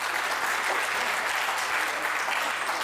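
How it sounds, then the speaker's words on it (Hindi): An audience applauds at a Hindi kavi sammelan poetry recital: a steady, dense wash of many hands clapping that fills the hall without pause for about three seconds. "इस बात पर ताली बजाओ।"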